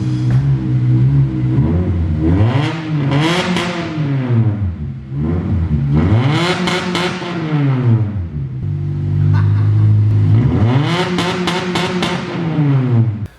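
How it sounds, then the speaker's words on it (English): An Acura RSX engine with a disconnected muffler revs repeatedly with a harsh, raspy exhaust roar, rising and falling in three or four long pulls, close by. "let me just show you guys what my car sounded like before I changed my exhaust"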